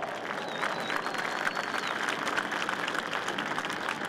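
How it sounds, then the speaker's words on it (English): An outdoor crowd gives steady applause at a special operations forces demonstration in Tampa, a dense, even wash of clapping that holds at moderate loudness throughout. "Please give them all a round of applause."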